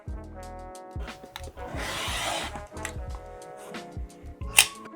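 Quilt background fabric being cut into 4.5 inch squares, with soft scraping and rubbing strokes, one longer gritty cut in the middle, scattered light taps and a sharp click near the end, close and fairly quiet.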